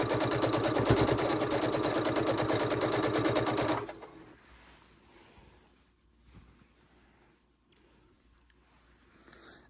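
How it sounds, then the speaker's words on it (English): A sewing machine stitches small scrappy quilt pieces together in a loud, rapid, steady whir for about four seconds, then stops, leaving quiet handling and faint rustles. "Sew all these little pieces together, shall we?"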